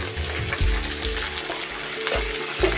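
Thinly sliced potatoes and flat beans, seasoned with salt and turmeric, fry in an oiled pan: a dense close sizzle broken by a few heavier stirring knocks, with no one speaking.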